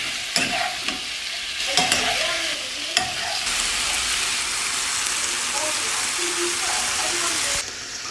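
Pepper hissing and sizzling steadily in hot oil in a pan, a continuous close frying noise with a few sharp clatters of stirring near the start.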